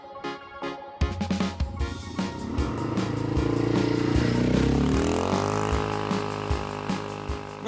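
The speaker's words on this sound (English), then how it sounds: "When you push the throttle, the quad accelerates pretty fast." A Motoland Wildtrack 200cc ATV quad on asphalt starts with clattering idle pulses, then revs up loudly into a rising, sustained engine drone before easing back to a rhythmic chugging.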